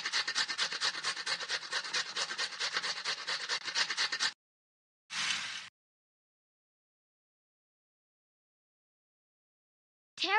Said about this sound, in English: We need to grate this.